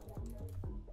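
A few quiet keystrokes are typed on a computer keyboard in a brief, soft burst.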